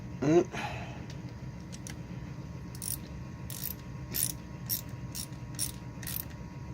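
A ratchet clicks in short bursts while bolts on a Baby Dream motorcycle's left engine case are snugged up evenly, with a brief clank at the start and quiet clicking runs spaced through the rest.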